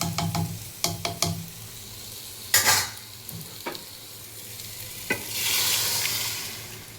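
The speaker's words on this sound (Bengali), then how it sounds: "এই যে খিচুড়িটা এখন ঢেলে দেবো, মশলাটা দেখো পুরো যাচ্ছে" Khichuri being stirred into a cooked spice mixture in a pot, with several sharp scrapes and knocks of the spoon, then a louder sizzling surge near the end, close and without talk.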